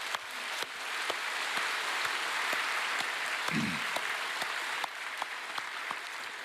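A church congregation claps in thanks during a worship service, broad sustained applause with a few sharper individual claps standing out and a brief low thump partway through.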